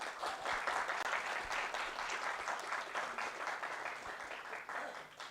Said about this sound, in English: Can you give a big round of applause for Group 2?